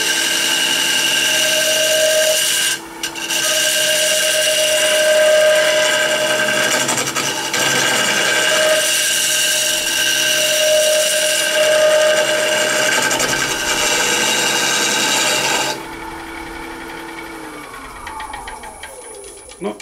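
An oak bowl spins on a wood lathe while the tool cuts, giving a loud, steady, harsh vibrating whine with a ringing tone that runs for about fifteen seconds, then drops to a quieter hum as the cutting stops.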